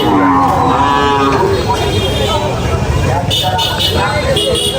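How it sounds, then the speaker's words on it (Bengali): Cattle moo loudly close by while people talk and vehicles rumble in the background at Manikchhari hill market. "দেশি স্থানীয় গৃহস্থের যে গরু"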